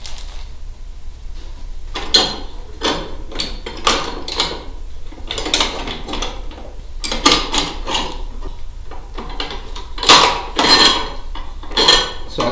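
Metal bolts and nuts being handled for mounting a sector antenna, clinking and rattling in irregular bursts of sharp, close taps against a quiet background.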